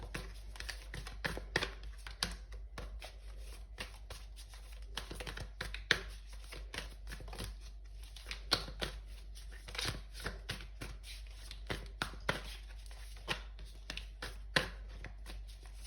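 Tarot cards are handled and pulled from a deck, giving soft irregular shuffling slides, flicks and light taps spread across a quiet room.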